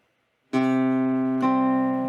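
Two guitar notes plucked with thumb and index finger ring out, the second struck about a second after the first, both sustaining cleanly in a quiet room; the intro to a song.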